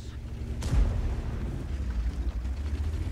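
One booming tank cannon shot from an E 75 in World of Tanks gameplay, a sharp crack followed by a low rolling rumble over steady engine drone.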